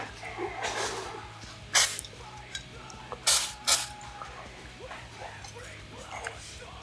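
CA glue accelerator hisses from a spray bottle onto the joints of an R2-D2 model, in three short bursts between faint background noise.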